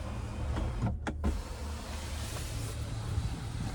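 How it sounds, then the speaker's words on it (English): An electric motor whirs briefly inside a 2025 GMC Yukon Denali as the power third-row seat folds, a soft mechanical hum over a low cabin background, with no talking. "3rd row seat folded up."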